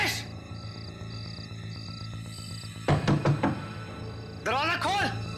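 Repeated knocking on a door in a horror drama, two quick bursts of several sharp knocks over a steady background music bed, followed by a short sound burst.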